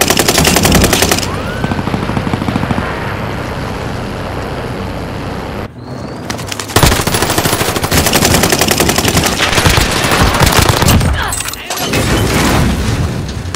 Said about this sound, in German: Rechts von uns Schüsse.